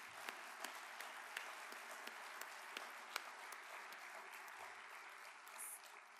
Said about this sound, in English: So one more round of applause for all you did for us.